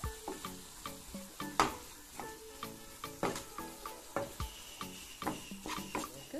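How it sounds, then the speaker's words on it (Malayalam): Spiced mixture with pepper is stirred in a pan over a low flame, with soft steady frying under repeated scraping and clinking strokes of the spoon against the pan at an irregular rhythm. "ലോ ഫ്ലെയിമിൽ തന്നെയാണ് ഇളക്കിക്കൊണ്ടിരിക്കുന്നത്."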